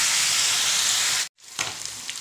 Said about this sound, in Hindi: देखिए दोस्तों, हमारा चिकन जो है एकदम मस्त अच्छे से फ्राई हो रही है।